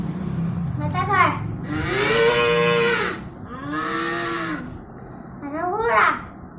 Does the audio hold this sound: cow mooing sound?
yes